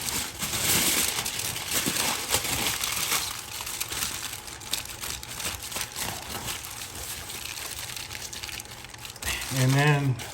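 Aluminum foil crinkles and crumples as a smoked pork shoulder, cooked on a Hasty Bake Roughneck charcoal smoker to 170 degrees internal, is wrapped up tight; close, busy rustling fills the clip, with a brief tonal bird-like chirp near the end.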